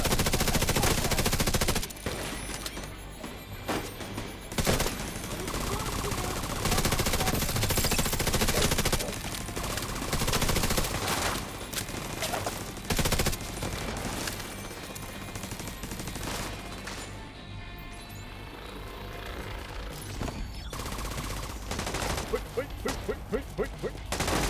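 Heavy automatic gunfire in the video game The Division 2, long sustained bursts and volleys of shots filling the scene almost without pause, loud and close, with speech mixed in.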